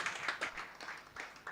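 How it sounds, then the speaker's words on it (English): A small group gives a brief, light round of applause, about a handful of soft separate claps at a distance, quiet and short-lived. "Please, a round of applause for him."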